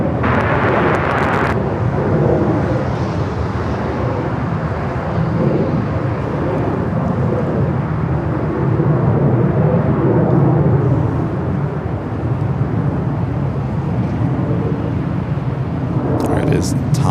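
A jet airliner landing on runway 24 right at LAX, a loud, sustained broadband roar that holds for the whole stretch, heard from an outdoor spotting position with a voice speaking over it at the start.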